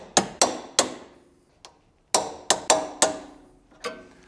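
Sharp metallic knocks ring out around a BMW E39 530i Touring thrust arm bushing bolt, single hits and quick pairs with short decaying tails, spaced irregularly with a pause in the middle.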